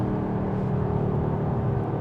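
A 2025 Porsche Cayenne S E-Hybrid on a test drive gives off a soft, steady engine hum from inside the cabin, low and even with no sharp changes.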